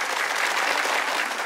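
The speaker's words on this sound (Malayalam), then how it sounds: "ഒരു വലിയ കൈയടി രണ്ടുപേർക്കും" Steady, dense applause from a comedy show audience, loud and continuous throughout, a full crowd clapping for two actors.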